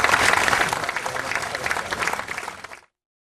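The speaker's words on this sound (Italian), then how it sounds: "Un lungo applauso ha accompagnato verso l'uscita dal Geopalace le 6 vittime di Olbia" A long applause from a crowd at a funeral for flood victims in Olbia, Sardinia: dense, loud clapping that fades and cuts off near the end.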